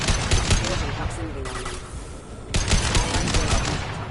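Gunfire in a firefight in the video game Mass Effect 2, dense bursts of rapid shots with a brief lull in the middle before the volley resumes, loud and continuous across the scene.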